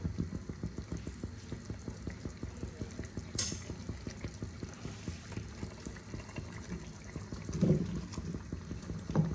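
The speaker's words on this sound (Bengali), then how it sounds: "মাছের ঝোল ফুটে গেছে, এই পর্যায়ে আমি মাছগুলোকে ছেড়ে দেব।" Shol fish pieces slipped into a boiling Bengali fish curry broth for kalia, a steady close bubbling and simmering with rhythmic pulses and a brief splash-like burst near the end.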